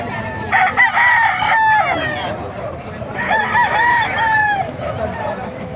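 Several roosters crow in overlapping bursts, loud and close, amid a busy crowd with background chatter at a chicken market in Bocaue, Bulacan, Philippines.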